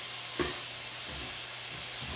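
Lean meat browning in a pan for biscuits and gravy, a steady faint sizzle and hiss with a couple of soft stirring taps, no talking.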